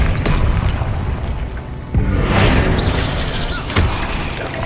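A Bombarda explosion spell goes off in the game Hogwarts Legacy, a loud deep boom about two seconds in with a rumbling tail, set among other dull thuds and steady ambient rumble, no voices.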